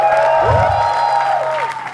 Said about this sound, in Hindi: तो दोस्तों प्लीज गिव इट अप, जोरदार तालियां उर्फी जावेद के लिए।